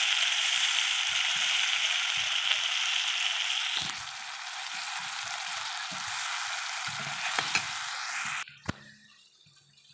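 Masala sizzles steadily in hot oil for an egg curry, a dense hiss that softens slightly partway through as a little water goes in, with occasional stirring clicks before it cuts off near the end.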